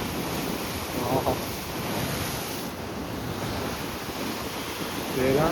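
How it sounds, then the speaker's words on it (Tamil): Strong sea waves crash and roar without pause during a storm at Pondicherry, mixed with heavy wind buffeting the microphone and falling rain. The surges swell slightly louder near the end. "அங்கே புயல் உருவாகிருக்குன்னு நினைக்கிறேன். சரிங்களா, அதனால செம்ம அலடிக்குது."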